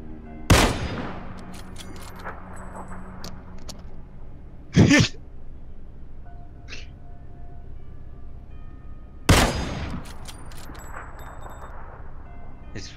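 Gunfire in the battle royale game PUBG: three sharp, loud shots spaced several seconds apart, each ringing out briefly over a quiet background with faint ambient tones.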